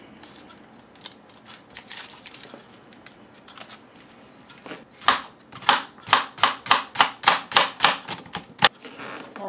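A knife chops Vidalia onions and garlic on a board, first in scattered uneven cuts, then in a quick even run of about a dozen crisp, close strikes.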